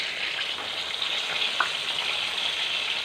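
Homemade chicken frying in oil, heard up close as a continuous hissing sizzle with a few faint pops, alone with no voices.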